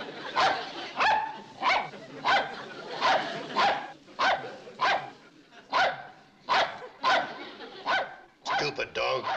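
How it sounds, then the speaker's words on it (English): A dog barks over and over in a steady rhythm of about a dozen sharp barks, close and fairly loud, with a quicker burst at the end. "Stupid dog."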